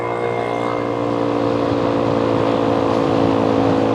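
A Boom Vader 125 motorcycle, a Honda Grom clone, pulls hard in traffic, its engine note loud, close and steady as it builds speed over a continuous road rumble.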